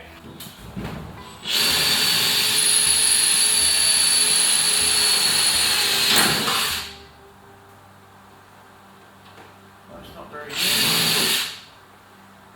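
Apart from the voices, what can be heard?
electric drill running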